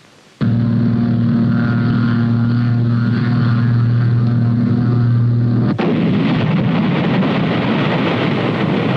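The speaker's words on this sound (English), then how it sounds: "Through the use of phosphorus bombs, he demonstrated the fine art of precision bombing." Phosphorus bombs exploding during a precision bombing test by an air brigade: a loud, sustained roaring blast with heavy low rumble, followed by a sharp crack near six seconds and a noisy, crackling aftermath.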